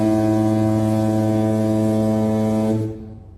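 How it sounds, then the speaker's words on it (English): A deep, steady foghorn blast played as a ballpark sound effect at a Braves versus Pirates baseball game to signal a full count, held loud for nearly three seconds before cutting off. "So that's our full boat foghorn there."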